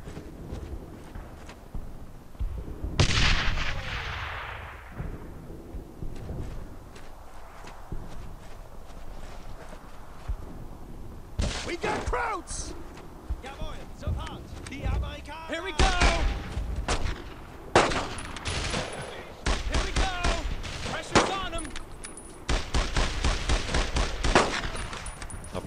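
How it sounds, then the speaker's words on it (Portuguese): A bomb bursts with a sharp, heavy blast and a decaying rumble in the World War II shooter Brothers in Arms: Road to Hill 30, followed by scattered gunfire, footsteps and occasional voices. "Deixa eu correr que a bomba vai explodir, ó."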